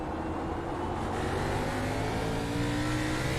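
Race car engine in the iRacing video game on the Daytona road course, running steadily at moderate loudness with shifting tonal harmonics as it changes gears, no talking.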